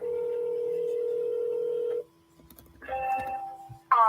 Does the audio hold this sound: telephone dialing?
yes